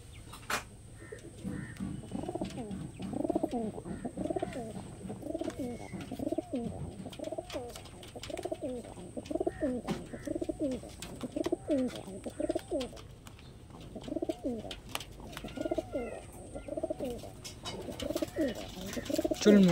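Madrasi pigeons coo in a steady, rhythmic series of soft, low calls, repeating every second or so, close by and fairly quiet, with faint background chirps and no one talking.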